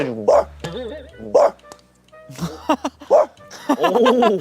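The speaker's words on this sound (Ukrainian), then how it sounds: "Собачки гавкали" Several dogs bark and yip in bursts, close by, with whimpering tones mixed in between the louder barks.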